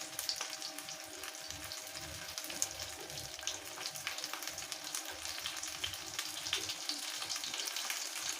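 Potatoes crisping in a very hot pan give a steady, close sizzle and crackle with small pops, continuous throughout and with no talking.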